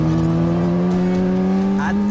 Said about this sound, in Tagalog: Siyempre, kilala din ang mga sport bike sa angas ng tunog ng engine nila.